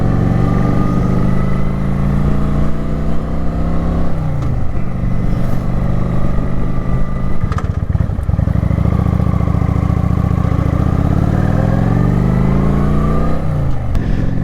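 Kawasaki Vulcan 900 cruiser motorcycle riding on a highway, its engine droning loud and steady throughout with pitch rising and falling as it shifts and accelerates, wind roar underneath.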